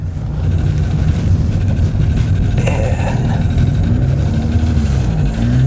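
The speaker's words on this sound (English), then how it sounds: "So it's a little bit loud. I think they might have a hole in the exhaust" A 1991 Honda Accord engine idles with a loud, rumbling exhaust that has a hole in it, a steady low drone with slight wavering, close and constant without speech.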